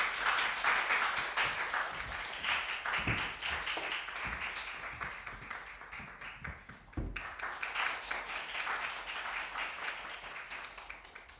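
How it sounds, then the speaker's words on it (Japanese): An audience applauds to welcome a Tokiwazu shamisen performer at a Japanese music presentation, fairly quiet clapping with a brief lull midway before picking up again. "では拍手でお迎えしましょう。"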